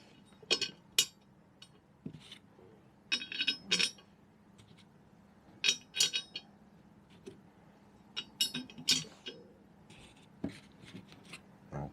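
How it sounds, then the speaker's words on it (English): Four metal bolts dropped one after another into the hub of a 1979 Suzuki FZ50 moped wheel, giving sharp metallic clinks and rattles in separate bursts, close by, with light handling noise in between. "Drop these 4 bolts in"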